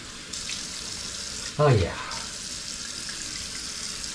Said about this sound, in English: just 2 splashes cold water.